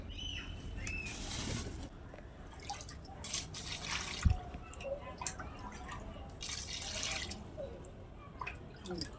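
Water runs and drips as goat head meat is rinsed under a tap, with soft splashes and one sharp knock midway; quiet and close.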